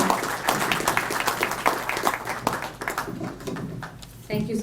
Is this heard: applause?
yes